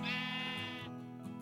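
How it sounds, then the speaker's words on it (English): A sheep in the video game Minecraft Skyblock gives one loud, drawn-out bleat lasting about a second, followed by a quieter trailing tail, with no talking over it. "No, Mr. Sheep. Get in the pen"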